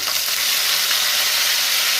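Fresh mint leaves crackle in hot tempering oil, a steady bright sizzle that fills the whole moment without any talking.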